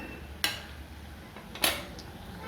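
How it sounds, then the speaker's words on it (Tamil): Aval vada with carrot flipped while frying in a pan over a medium flame, two sharp metallic clinks of a utensil against the pan about a second apart, over a faint background hiss. "அடுத்த பக்கத்துக்கு நம்ம திருப்பி போடலாம் கொஞ்சம் வேகட்டும்"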